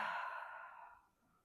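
A long, breathy exhale during a Kundalini yoga session, loud at first and then slowly fading to quiet, heard alone without talk.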